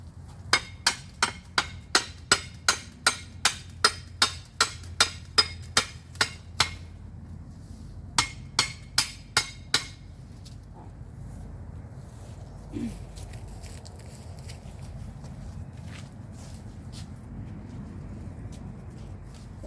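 Sharp hammer blows strike in a fast, steady series, pause, then a shorter burst follows before fading to quiet room noise with faint scattered sounds.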